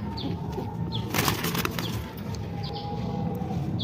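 Napta pigeons flapping their wings, several short flurries of wingbeats over a constant background hum, close by and moderately loud, no talking.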